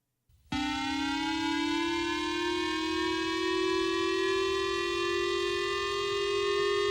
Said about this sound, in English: here is the Japanese EAS alarm right here